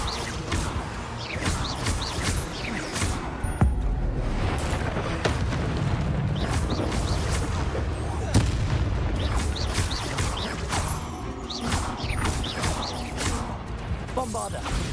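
Spells cast in Hogwarts Legacy (Bombarda, Incendio and Confringo) let off repeated explosive booms and fiery blasts. The bursts come in a dense, continuous run of crashing hits, loud and close.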